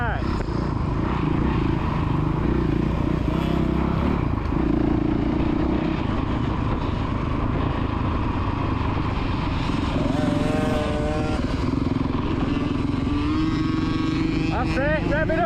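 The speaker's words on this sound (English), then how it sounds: "That's it, rev it up, rev it up." A kids' motocross bike revs continuously on the Astley MX main track, a steady buzzing engine note rising and falling with throttle, while an adult voice calls out encouragement over it.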